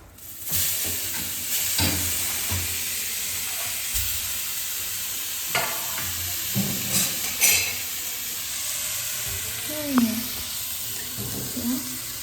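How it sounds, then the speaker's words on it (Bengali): Grated coconut fries in a fully heated wok, making a sizzling hiss broken by stirring scrapes and clinks. Some water is poured in near the end, and a person talks intermittently over the cooking. "তো চলো ফটাফট নারকেলটা ফ্রাই করা স্টার্ট করে দিই"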